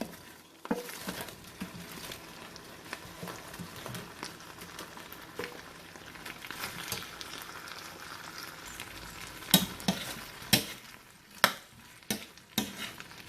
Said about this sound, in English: With that, I am going to add the broccoli which we fried.